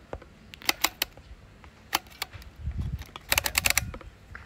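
Shutter speed dial on a Nikkormat FTn film camera being turned, a series of sharp mechanical clicks in bursts, close and fairly loud, with a brief low rumble of handling between them.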